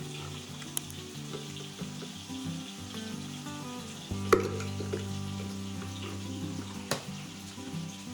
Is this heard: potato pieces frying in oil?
yes